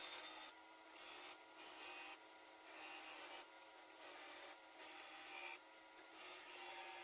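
A file rasps rhythmically across hand saw teeth in steady back-and-forth strokes, each bright scraping pass separated by a short gap, close and fairly loud.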